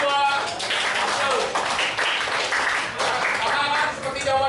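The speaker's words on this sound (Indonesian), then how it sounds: "Tepuk tangan dulu untuk kelompok 2" Schoolchildren in a classroom lesson on computer hardware clap for a student group, a loud, lively burst of clapping mixed with voices and chatter that swells and dips in waves.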